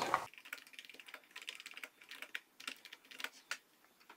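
Rapid clicking keystrokes on a computer keyboard, typed in short uneven bursts while entering a question into an online quiz form; the taps are crisp, fairly close and soft, with brief pauses between runs and no speech.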